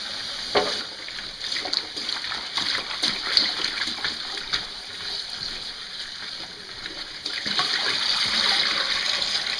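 Freshly dug dandelion roots being washed in water, with steady splashing and sloshing punctuated by trickles and drips, close by and fairly loud, a running-water rush building toward the end.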